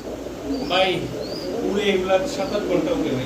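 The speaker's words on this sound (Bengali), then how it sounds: "পাকিস্তানি লাল শিরা কবুতর" Pakistani red-vein pigeons coo in soft repeated phrases, close by, against a steady background hum.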